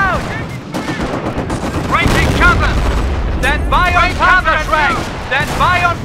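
Loud, continuous artillery and gunfire from Company of Heroes rumble as a battle wash with booming impacts, and voices shout over the barrage.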